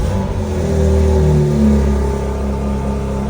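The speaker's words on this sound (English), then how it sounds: "Before I clear the code, I want to start it just to see if it has any vibrations." A BMW S58 engine idles steadily after a spark plug replacement, a close, continuous low mechanical hum with slight rises in pitch, heard alone without talk.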